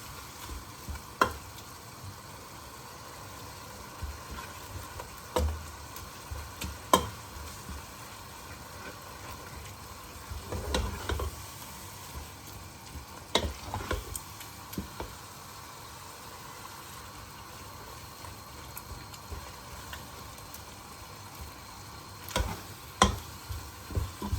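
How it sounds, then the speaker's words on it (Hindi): A spoon stirring gram flour (besan) quickly in a pan, giving sporadic scraping ticks and clinks over a faint background sizzle, irregular and fairly quiet across a long stretch. "बस इस तरह जल्दी जल्दी चम्मच चलाएंगे ताकि बेसन की जो है वो लम्स ना बने।"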